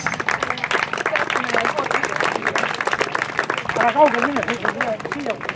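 Audience applause for a young girl's medal at a children's triathlon in Haapsalu, with dense, steady clapping and crowd murmur and an announcer speaking over it.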